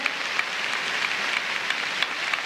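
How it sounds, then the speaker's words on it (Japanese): A large hall audience at a 1991 Asian peace women's federation convention in Tokyo applauds the interpreter, a dense, even roar of distant clapping with occasional sharper claps. "パク先生にもどうぞ盛大な拍手を差し上げてください。"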